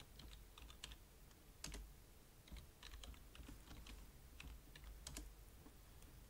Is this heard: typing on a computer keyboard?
yes